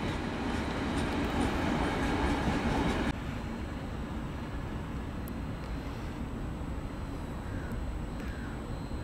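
A freight train carrying BMX cars rolls by on a Hungarian line toward Lake Balaton, with steady rumbling and clattering wheels, loudest at first then easing into a continuous lower roar.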